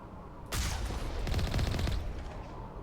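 A short burst of rapid gunfire rattles out in Mass Effect 1, a dense stuttering volley lasting about a second and a half over low background rumble.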